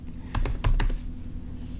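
Typing a command on a computer keyboard, a quick run of sharp, distinct key clicks at close range, spaced unevenly, with a final tap after a short pause.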